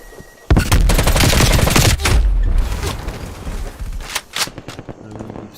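Dense, loud automatic gunfire erupts in Call of Duty Black Ops Cold War multiplayer, a sustained burst of rapid shots followed by scattered quieter bursts and bangs.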